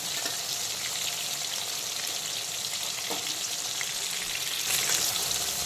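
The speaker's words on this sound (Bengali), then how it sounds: "এখন রুই মাছের উল্টো দিকটাকেও একইভাবে ভালো করে ভেজে নেব।" Medium-sized pieces of rohu fish frying in hot oil, giving a continuous close sizzle and crackle that rises slightly near the end, with no talking.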